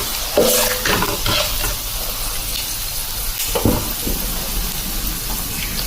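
Whole spices and fennel sizzle in hot oil in a pan for a Kerala-style egg masala, stirred with scraping, clattering strokes over a steady frying hiss, close up and without talk.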